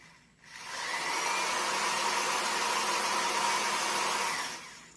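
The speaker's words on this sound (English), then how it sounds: "So we need to drill us a pilot hole here." A power drill boring a pilot hole in wood spins up and runs with a steady, high whirring drone for about four seconds before winding down.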